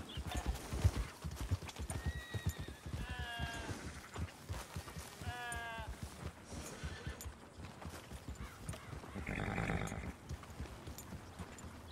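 A horse gallops in the Red Dead Redemption video game, its hooves beating a quick, even clip-clop close by while it lets out several high whinnies between the strides.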